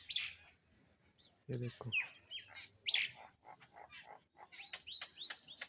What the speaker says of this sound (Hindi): आज पूरे आंगन में भरे हैं पशु पक्षी। देखो अलग अलग प्रकार के पक्षी है।